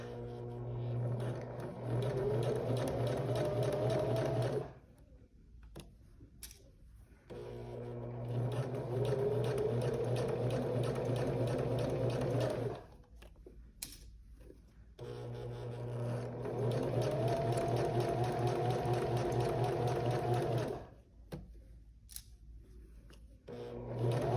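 A sewing machine runs a long basting stitch along a zipper in three extended whirring runs, each a steady mechanical buzz, separated by short quiet pauses with small handling clicks.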